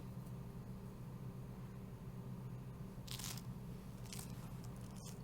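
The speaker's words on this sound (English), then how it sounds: "That is some crunchy ass bread." In Final Fantasy XVI, a character bites into tavern bread with two short, crisp crunches over a steady, quiet background hum.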